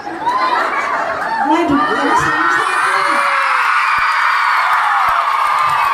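A live comedy show audience cheers and shouts in a dense, loud crowd roar, with whoops and excited voices rising over the noise throughout.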